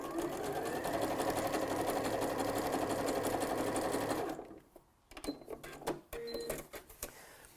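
A sewing machine runs steadily while zigzag stitching a seam on a scrubs jacket, a loud, even mechanical whir for about four seconds, then stops and gives way to brief clicks and handling noises.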